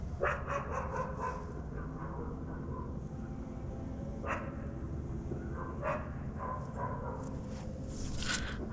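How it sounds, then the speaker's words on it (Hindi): Dogs barking near a container at an abandoned place at night, several faint distant barks and yips scattered irregularly over a low background hum. "कुत्ते भौंक रहे"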